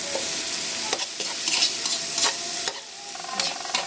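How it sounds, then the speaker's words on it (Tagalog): Onions sautéing in a pan for a mung bean and pork chop dish, a steady sizzle broken by repeated spatula scrapes and clatters against the pan, close and fairly loud. "Isahin mabuti. Hanggang mapago."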